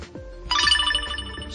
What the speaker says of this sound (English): Ringtone, that's just your phone ringtone.